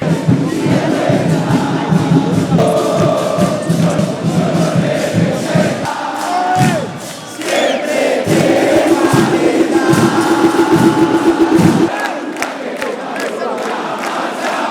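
A dense, loud crowd marches with a band outside a football stadium at an Atlético Nacional game protest, chanting and shouting over drums and a brass-like drone, continuous and close.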